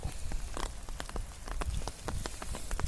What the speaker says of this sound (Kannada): ನಮ್ಮ ನೆಟ್ ಮೇಲೆ ಬಿದ್ದಂತ ಆಲಿಕಲ್ಲು ಇದು